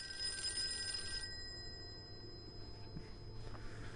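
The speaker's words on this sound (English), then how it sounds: "the damn phone is ringing" Telephone ringing in the Call of Cthulhu video game, a bright electronic ring sounding for the first second or so before stopping, leaving quiet room tone.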